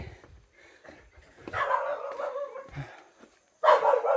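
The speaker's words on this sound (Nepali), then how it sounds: "ल यहाँ हेर्नु कुकुर पनि पाल्नु भएको रहेछ" A dog barks in short bursts near a village house in Keraabari, Morang, Nepal, several sharp barks with quieter whimpering gaps, the loudest burst coming at the end.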